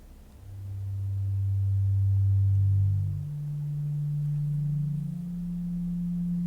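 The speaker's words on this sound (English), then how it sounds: "this is all just doing sort of random notes and tones within certain ranges" Music-making software plays synthesized pure tones that sit as low sustained notes, one holding for about three seconds and then stepping up to higher held pitches, smooth and steady with no talking.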